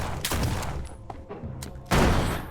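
Gunfire in the video game Lovecraft's Untold Stories 2, loud close bursts of rapid shots in two volleys with a short lull between, no talking.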